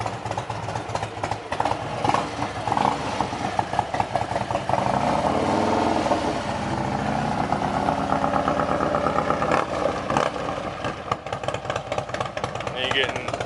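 A 2020 Harley-Davidson Street Glide Special engine, fitted with a Thunder Max tuner, idles with an uneven, loping rumble, running steadily while people talk over it.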